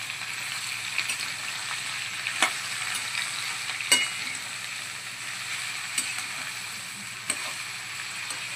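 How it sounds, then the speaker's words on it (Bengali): Bottle gourd (lau) fries in a pan with salt and turmeric, a steady soft sizzle broken by occasional faint clicks of stirring. "প্রথমে ভালো করে এটাকে লবণ হলুদ দিয়ে একটু কষিয়ে নেব লাউটাকে।"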